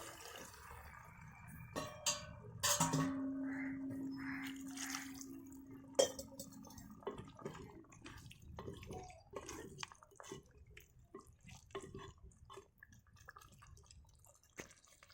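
Water dripping and splashing into a pot of simmering chicken gravy, with scattered wet drips, a brief steady tone, and soft bubbling clicks continuing throughout.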